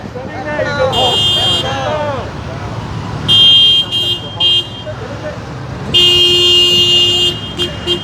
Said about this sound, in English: as they continue to sound their horns in support for the